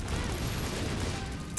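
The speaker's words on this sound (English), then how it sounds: "they drop bombs. And the bombs split, and there's a lot of them" Swarms of splitting bombs going off in a video game, a dense, loud, continuous roar of overlapping blasts that fills the whole stretch.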